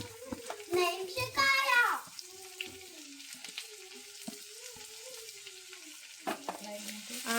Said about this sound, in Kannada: ಆಮೇಲೆ ಫ್ರೈ ಮಾಡ್ತಾಳೆ.